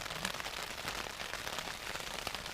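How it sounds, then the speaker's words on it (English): Faint rain patters steadily on a nearby surface while wild camping in Scotland, a soft, dense crackle of drops with no voices. "I'm just waiting this rain getting off."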